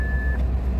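A single short, loud electronic reversing beep from a Mazda AZ Wagon shifted into reverse gear, ringing for a fraction of a second over a low engine hum inside the car.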